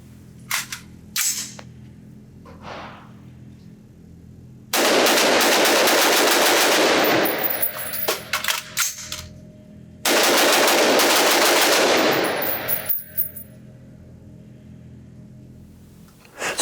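Noveske Afghan 5.56 AR-15 rifle firing in a range setting: a few scattered single shots early on, then two long rapid strings of loud, sharp reports, each lasting several seconds, with echoing tails between bursts.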